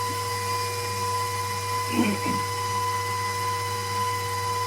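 An electric mixer with a whisk beater mixes sugar for winter bee feed, giving a steady, fairly quiet motor whine with a brief rougher scrape partway through.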